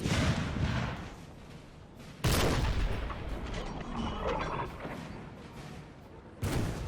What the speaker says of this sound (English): There's probably going to be way more artillery fire than some of the infantry may even fire.